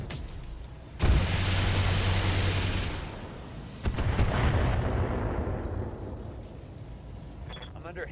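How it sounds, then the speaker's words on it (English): Heavy weapon fire pounds a mech in a MechWarrior battle, with loud booming blasts and rumbling impacts arriving in two waves, the second fading into a long decaying roar, with a voice talking over the action. "I'm under heavy fire."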